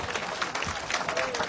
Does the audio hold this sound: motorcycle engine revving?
no